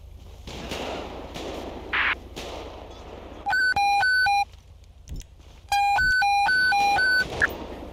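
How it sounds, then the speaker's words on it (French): A few sharp gunshot cracks ring out in an LSPDFR police video game, standing out over a constant low engine hum while loud, repeated electronic beeping tones sound in bursts. "Coup de feu, coup de feu."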